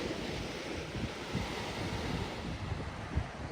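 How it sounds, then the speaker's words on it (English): Ocean waves roll in at a beach under a cool salt breeze. A steady roar of surf and wind buffets the microphone, with occasional dull thumps and no talk. "catch the waves and the cool salt breeze."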